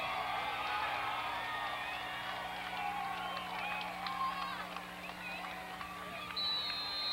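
A large crowd of Robinson fans fills the stands at a 1994 night high school football game against North Knox, a steady broad roar with murmuring voices and a low constant hum underneath, fairly loud throughout.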